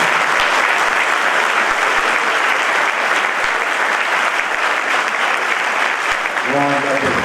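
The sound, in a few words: applause for newly approved convention board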